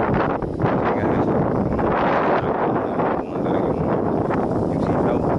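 Strong typhoon wind buffets the microphone continuously, a loud roaring rush with gusty fluctuations and no clear pauses.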